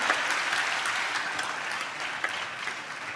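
Audience at a church sermon applauding, steady clapping from a crowd heard at moderate level throughout.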